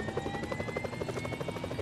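Helicopter in the mobile shooter game PUBG Mobile, a fast rhythmic rotor chop with an engine whine, steady and moderately close throughout.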